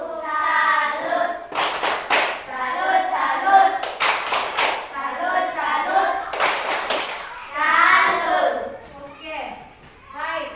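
Classroom of children performing a rhythmic clapping chant in unison, sharp bursts of claps mixed with their chanted voices, repeated several times.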